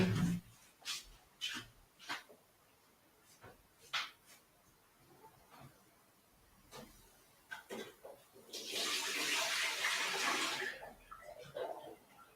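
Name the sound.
water flowing in Minecraft video game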